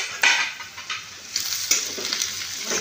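A spoon scraping and stirring chili powder, turmeric and salt in a cooking pan, with soft sizzling and light clinks of metal, close and intermittent.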